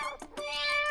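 A cat meows several times up close, short bright cries in a quick series, while someone offers it cold milk.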